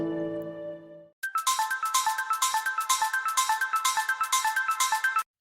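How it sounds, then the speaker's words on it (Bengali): A mobile phone ringtone plays a fast repeating melodic pattern for several seconds after a sustained tone, then stops abruptly. "হঠাৎ ফোনটা বেজে উঠল"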